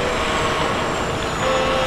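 Truck at the port of Valencia, a steady broadband engine rumble with a faint high whine, continuous and fairly close for about two seconds with no pauses.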